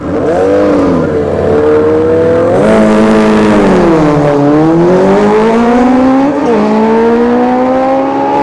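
Drag racing motorcycles at a test-and-tune session at ShowTime Dragstrip, engines revving loud and close in a sustained howling roar that rises and dips as they shift and pull, no talking.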